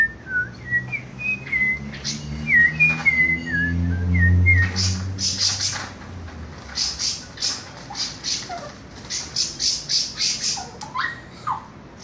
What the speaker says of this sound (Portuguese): Muita sabiá boa aí, ó.